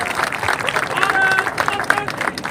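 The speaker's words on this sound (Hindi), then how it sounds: "एक बार जोरदार तालियां।" A crowd claps at a cricket event, a dense, lively patter of applause mixed with excited crowd noise and some voices, fairly loud and close.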